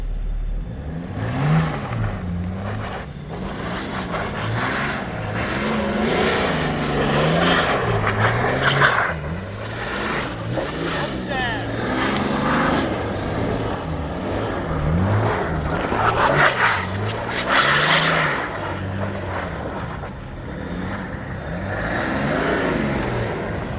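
A BMW GT diesel engine with 250 horsepower revs and drones steadily as the car drives in snow, its pitch rising and falling over a continuous rumbling, scraping road noise.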